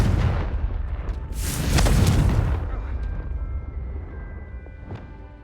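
A Confringo explosive spell bursts in the video game Hogwarts Legacy, a loud booming blast that swells and then fades into a lingering rumble, with no speech over it.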